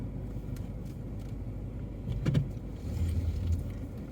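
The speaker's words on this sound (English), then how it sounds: "we're just going to get this car parked a little bit straighter" A car creeps slowly while being parked and straightened on a town street, a low steady engine hum with faint mechanical clicks and a brief rise in rumble, no talking.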